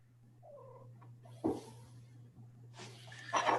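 A talkative house cat gives a couple of faint meows and chirps over a steady low hum, with a louder burst near the middle and another toward the end.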